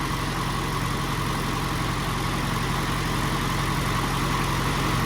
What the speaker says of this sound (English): we have let the tractor run